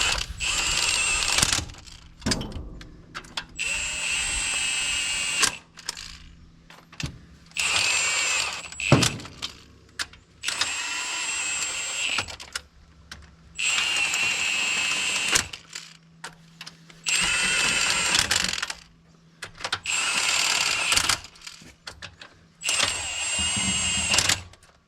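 A ratchet running down the head gasket bolts on a 1964 Mercury engine: repeated bursts of fast metallic clicking, each lasting a second or two, separated by short pauses, fairly close.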